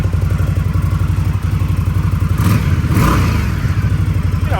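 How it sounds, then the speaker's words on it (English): An Indian Scout Bobber motorcycle fitted with a short muffler idles with a throbbing, loud exhaust note, then revs up sharply twice before settling back to a steady rumble. "Listen to that exhaust,"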